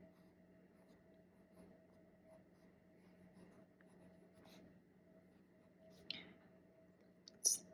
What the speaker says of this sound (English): getting it in the writing sample on a fine nib on Stalogy paper